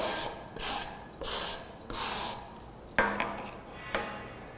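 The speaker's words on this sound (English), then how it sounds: "The file is easily cleaned with a file card." A metal file is cleaned with a file card, heard as four broadband scraping strokes in steady rhythm, each about half a second long, followed by three sharper, fainter scratches, close up with no talking.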